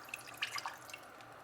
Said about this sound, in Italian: Ho messo una casserolina sul fuoco, accendo il gas, verso l'acqua